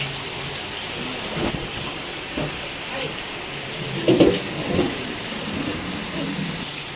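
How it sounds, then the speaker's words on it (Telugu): Heavy rain pours steadily and close, with several low thunder rumbles rolling through, the strongest near the middle, during a family get-together. "ఇలా అన్నానో లేదో మళ్ళా వర్షం వస్తూనే ఉంది"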